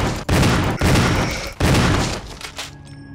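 Gunfire in Resident Evil in randomizer mode: three loud, close, heavy blasts in quick succession, each ringing out briefly before a quieter tail with faint game tones.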